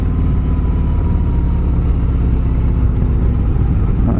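A 2018 Harley-Davidson Road Glide motorcycle riding along winding roads in Roswell, Georgia, its loud, steady low-pitched engine rumble and throb filling the whole stretch without pause.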